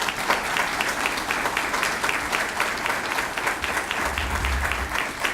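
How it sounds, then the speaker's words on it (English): An audience at a school partnership breakfast claps warmly for a retiring math volunteer, giving steady, moderately loud applause with distinct individual claps throughout, and a low voice murmurs near the end. "let's give him a round of applause"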